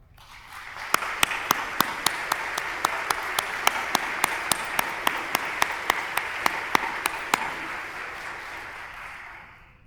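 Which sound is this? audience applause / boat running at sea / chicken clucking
audience applause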